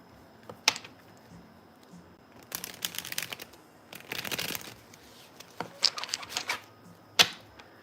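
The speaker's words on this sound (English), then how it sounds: "I got to shuffle up these cards really good." Playing cards are shuffled by hand in a quiet room, several bursts of riffling and bridging clatter spread over a few seconds with soft pauses between, fairly faint and close, no talking.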